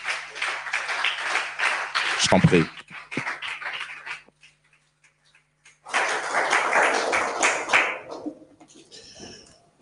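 Church audience applauding to welcome Pastor Adolphe Kasonga, a dense burst of clapping and cheering that fades into silence before a second wave of applause swells, with a brief spoken phrase in between.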